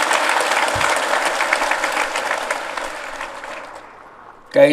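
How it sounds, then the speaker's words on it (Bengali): At the opening of a national fish week event, an audience claps for honoured fish farmers, with dense applause that slowly thins and fades before a brief burst of sound at the very end. "তাদের সবাইকে আবার জোরে হাততালি দিয়ে একটা সবাই মিলে হাততালি"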